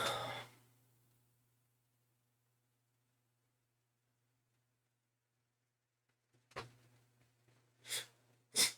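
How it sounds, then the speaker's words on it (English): A person trying to sneeze: a breathy burst, a long silence, then several sharp gasping intakes building up near the end, close and fairly quiet over a low hum. "trying to sneeze."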